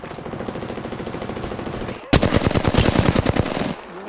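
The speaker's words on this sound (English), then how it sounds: "They spotted me. I'm taking shots." Heavy automatic gunfire from the video game KHR Squadra strikes the player, a loud, dense burst of rapid shots lasting about a second and a half, preceded by steady game background noise.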